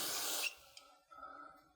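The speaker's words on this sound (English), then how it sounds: "Give it a little spray of cleaner." A short, close hiss of aerosol carburetor cleaner sprayed onto the low-speed jet of a Walbro carburetor during a rebuild, one steady burst that cuts off, followed by faint handling noises.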